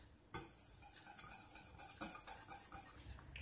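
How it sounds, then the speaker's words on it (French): Semolina being stirred in a pot for a caramel semolina cake: a steady, close scraping and swishing of a utensil against the pot, with occasional clinks, continuing without talk. "Je vais remuer pendant 5 ou 6 minutes."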